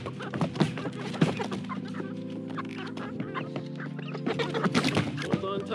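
A flock of chickens clucks inside a chicken coop, a busy overlapping chorus of short clucks and calls at moderate volume, with no talking.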